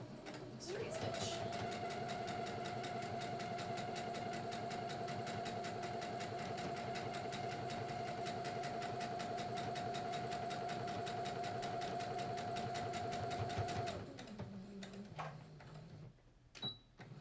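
A sewing machine runs a long steady straight stitch on a cloth face mask with a fast even rattle, then slows and stops near the end.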